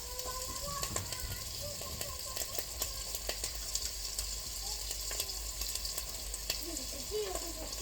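Meat fries in a pan, giving a continuous close sizzle with scattered crackles and pops, plus occasional scraping stirs and faint background noise.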